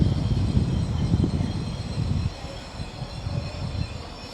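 A train at Oxford station on the service to Milton Keynes Central rumbles steadily with low wheel and engine noise, dropping slightly in level midway and continuing as a nearer, even roll.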